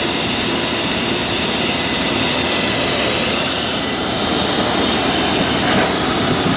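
A 1996 Ford F250 4x4 engine runs loud and close without starting fluid, making a dense, steady roar that continues throughout with no voices.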